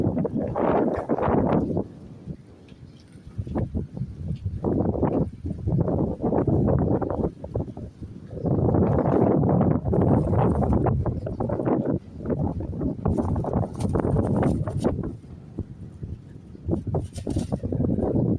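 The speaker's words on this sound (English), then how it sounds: "Ooh, this wind is so lovely, lovely." Strong outdoor wind in Africa near a moringa tree, gusting in loud rushing surges that rise and fall, buffeting the microphone with brief lulls between blasts.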